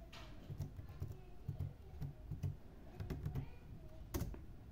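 Password typed on a computer keyboard, a steady run of quiet, close key clicks in irregular bursts over a faint background hum, with no voices.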